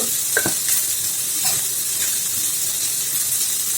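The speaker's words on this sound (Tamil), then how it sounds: "ஒரு வெங்காயத்தை இந்த மாதிரி ஸ்லைஸ் பண்ணி வச்சுருக்கேன் அதை போட்டு வதக்கி கொடுத்துடலாம்" Sliced onion sautéing in a hot pan, a steady broadband sizzle with a few scraping stirs early on, close and continuous throughout.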